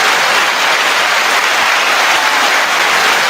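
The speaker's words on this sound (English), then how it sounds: "that deserves an applause, in my opinion" A dense burst of applause, loud and steady for a few seconds with no voices over it, cutting off abruptly.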